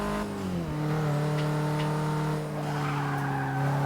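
Tires skid and squeal through a controlled drift in the Forza 6 racing game on Xbox One, a sustained loud screech over steady engine drone, with the car partly running off the track onto grass.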